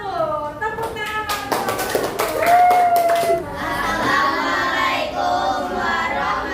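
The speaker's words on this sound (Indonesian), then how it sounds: "Tepuk tangan." Students clapping in a classroom, a quick burst of sharp, close handclaps at first that blends into noisy chatter and children's voices.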